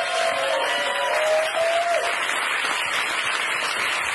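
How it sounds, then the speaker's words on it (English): An audience gives a loud, even round of applause for the guests, dense clapping that holds steady from start to finish. "One more round of applause for all of my guests"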